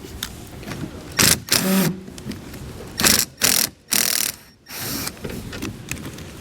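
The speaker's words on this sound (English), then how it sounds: "We're going to need a T20 Torx bit to get that out." Torx fasteners being backed out with a T20 Torx bit under the rear of a 2013 BMW 3 Series, giving several short bursts of ratcheting, clicking mechanical noise with brief pauses between them, fairly close.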